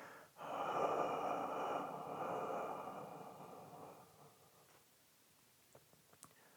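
A long, steady exhalation during a posture exercise for forward head position, breathy and close, fading gradually after a few seconds into near silence with faint small clicks.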